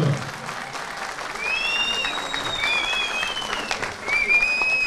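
At a Turkish political rally in Balıkesir, a crowd's applause rises and holds as a steady patter of clapping, with a voice and some whistling or chirping tones over it.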